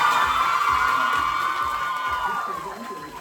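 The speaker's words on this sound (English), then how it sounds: "ladies and gentlemen, a round of applause for Caleb Stout." A crowd at a junior tourism ambassador pageant cheers and whoops for a high school student, loud voices and shouting blending into a sustained roar that gradually fades over a few seconds.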